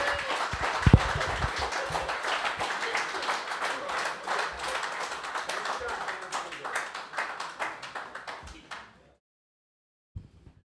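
An audience at a live comedy show applauds comedian Orlando Baxter, with dense, steady clapping and some voices for about nine seconds before cutting off to near silence.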